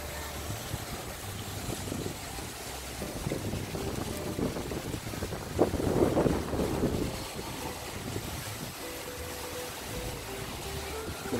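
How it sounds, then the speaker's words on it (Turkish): Steady wind buffets the microphone outdoors near the Manavgat waterfall in Antalya, a continuous low rumbling gust that swells briefly midway, with no voices. "Burası güzel esiyor."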